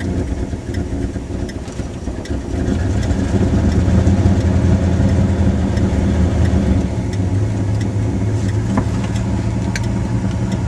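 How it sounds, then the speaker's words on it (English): A 1978 Mercury Grand Marquis engine, converted to a manual choke, idles loudly and steadily, a continuous low rumble that swells slightly partway through, with faint clicks over it. "The engine's running."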